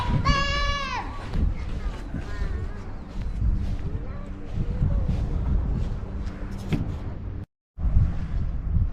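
Sheep bleat loudly at the start at an old gun battery site in Auckland, New Zealand: one clear wavering call followed by fainter bleats, over steady outdoor rumble and a voice talking throughout.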